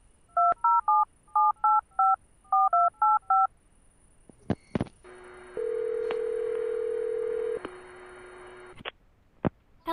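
A telephone keypad dials a number in quick bursts of tones, three short groups in a row, then a click and a steady ringback tone as the call to a parent goes through.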